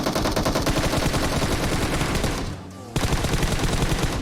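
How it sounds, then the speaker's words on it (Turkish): Rapid automatic gunfire from a PUBG battle-royale match, loud sustained bursts of shots with a brief pause before firing resumes, set against game music. "Vuruyorum, vuruyorum."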